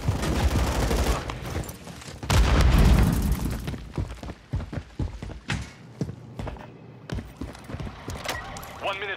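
Grenade blast in Call of Duty MW3 team deathmatch on the Rio map: a heavy, loud boom followed by scattered gunfire and sharp impacts, with game radio voices under the action.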